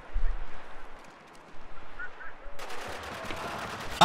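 Bursts of gunfire in a Spec Ops: The Line multiplayer team deathmatch, fairly loud and dense in the second half after a quieter stretch, with a final sharp crack at the end.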